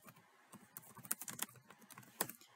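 Quick, light keystrokes on a computer keyboard as a name is typed, an irregular patter of close clicks with a few sharper taps and short pauses.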